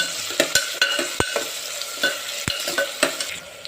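Whole cinnamon and cloves frying in a pan for kuska rice, with repeated sharp clinks of a spoon stirring against the pan over a low sizzle, close and fairly loud.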